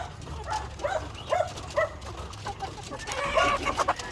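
Heritage-breed cross pullet hens cluck and chatter in a breeding pen, with overlapping close calls over a low rumbling background.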